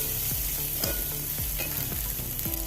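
Kovakka thoran (ivy gourd stir-fry with onion and coconut) sizzling softly in a pan while a spoon stirs it, scraping strokes recurring every half second or so over a quiet, steady fry.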